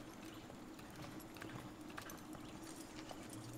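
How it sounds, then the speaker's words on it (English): Far Cry 6 horse hooves: steady clip-clop at an even walking pace, moderately close, over a continuous low rumble of background ambience. "He even left me a horse."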